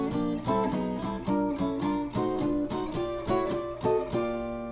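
Jazz guitar phrase played with drop 2 chords moving chromatically: a string of clear, rhythmic chord stabs, close and alone with no talking.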